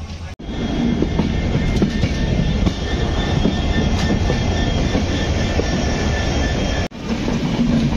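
Kamrup Express sleeper class coach running, a loud, steady rumble with rattling and rail clatter heard from inside the car throughout, with no voices.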